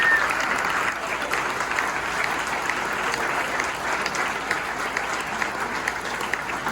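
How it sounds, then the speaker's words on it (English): Sustained crowd applause for local elected officials at a Burgers & Brews gathering, a dense even wash of many hands clapping that runs steady throughout at moderate distance. "If you could stand so we can just give you a round of applause for what you do for our community as well"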